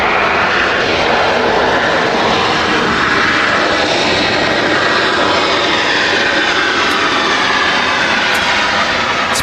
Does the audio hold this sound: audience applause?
no